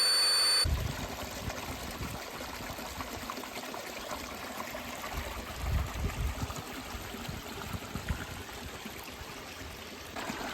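Water trickling and splashing softly as bottles are filled at an Appalachian Trail campsite in Connecticut, a faint continuous flow with a few louder gurgles midway.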